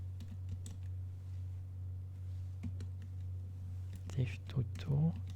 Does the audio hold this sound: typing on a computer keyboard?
yes